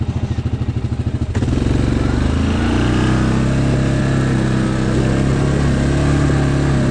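An ATV four-wheeler engine idles with a chugging pulse, then revs up into a loud, steady drone that carries on close by without any talking.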